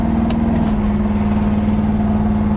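A 1970 Dodge Super Bee engine idles steadily up close, a low, even rumble with a faint pulsing beat and no voices.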